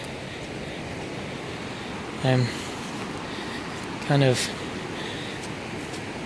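Rushing floodwater of the Big Thompson River in a park during the 2013 flood, a steady broadband roar that fills the whole clip, with two brief bursts of someone speaking over it.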